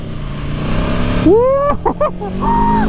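A V4 motorcycle engine idling low, then revving hard with a sharply rising whine, followed by a few quick throttle blips and a final climbing rev, close and loud.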